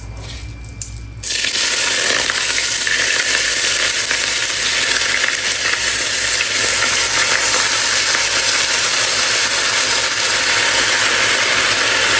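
After a brief quiet moment, a loud, steady sizzle of rice frying in a hot pan takes over and continues without pause.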